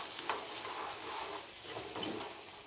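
Sprouted chickpeas fry in a pan with a little oil and salt, a quiet, steady sizzle with faint crackles and occasional stirring scrapes nearby.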